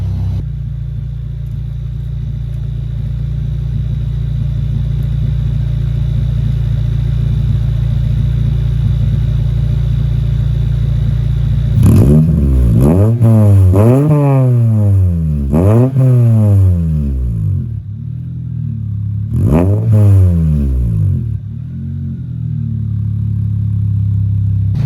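A car with a custom exhaust idles with a deep steady exhaust burble, then revs sharply several times, the raspy exhaust rising and falling in quick bursts.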